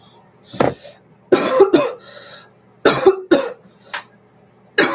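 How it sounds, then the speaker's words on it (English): A person coughs in a cold room indoors. There are several harsh, close coughs in irregular bursts, some in quick pairs, separated by brief quiet gaps. "Coughing starts."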